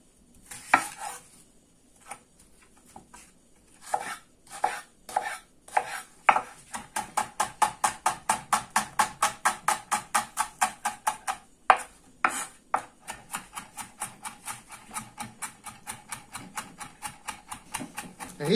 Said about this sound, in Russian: В этот момент мелко нарезаем наш лук.